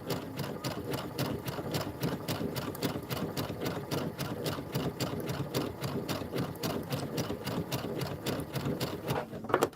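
Embroidery machine stitching a Kimberbell holiday rope bowl in the hoop, a steady rapid mechanical chatter running without pause, close and continuous.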